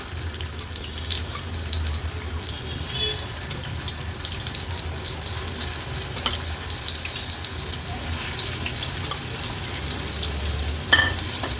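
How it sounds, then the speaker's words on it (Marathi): Cubed potatoes sizzle in a small amount of well-heated oil over a medium flame, a steady, soft crackling hiss with occasional louder pops, heard alone without talk. "आता हे जे बटाटे आहेत ते आपण तेलावर सोडूया।"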